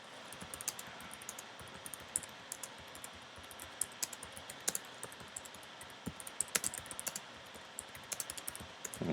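A computer keyboard clatters as someone types a description into streaming software, quick irregular keystroke clicks scattered over a quiet room background, faint and close.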